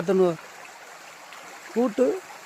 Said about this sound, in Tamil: நீர் வந்து 2 பக்கமும் வரும், ஒன்று சேரி தட்டில் வந்து.